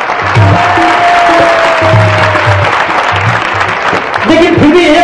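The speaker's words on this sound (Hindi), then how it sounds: "तालियां ढंग से बजाओ।" An audience at a spiritual discourse on cow shelters claps in a dense, sustained burst of applause, with a loud voice speaking over it throughout.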